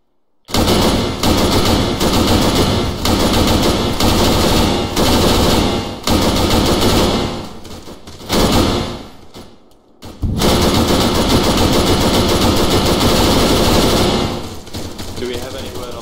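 Sustained automatic gunfire in a military video game, long dense bursts of machine-gun fire at close range and very loud, broken by a few short pauses, with player voices occasionally underneath.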